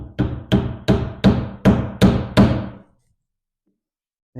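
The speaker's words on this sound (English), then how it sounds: "I'm going to tap these in now with the hammer." A hammer taps angled wooden shims into a furniture joint, seven crisp, evenly spaced knocks in quick succession, close and alone, followed by silence.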